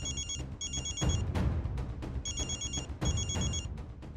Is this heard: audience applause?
no